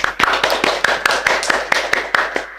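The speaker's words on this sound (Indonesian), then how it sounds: "Beri tepuk tangan yang meriah" An audience at a podcast launch for a district agriculture office in Purbalingga claps in a loud, even rhythm, with about a dozen sharp, close beats over a couple of seconds.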